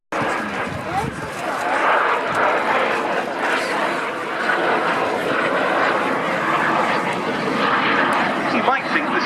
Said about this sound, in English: our next display item, the two British Aircraft Corporation Strikemasters